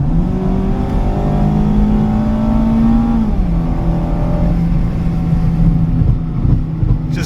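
A Mazda Miata RF engine drones close-up at steady, moderate revs under wind noise, its pitch creeping up, then dropping as the driver lets off and settling into a flat, industrial-sounding cruise.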